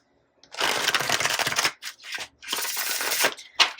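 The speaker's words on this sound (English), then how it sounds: "Let me give it one more good shuffle here." Tarot cards are shuffled close up in two brisk, riffling bursts with a short pause between them, followed by a soft tap.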